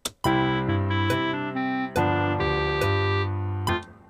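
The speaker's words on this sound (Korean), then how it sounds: "1, 5, 1 이렇게 아르페지오로 하는 방법이 있겠죠." Piano left hand plays a 1-5-1 arpeggio, notes rising and falling in a repeating low-high-low pattern, each note ringing clearly under sustained chords, played alone.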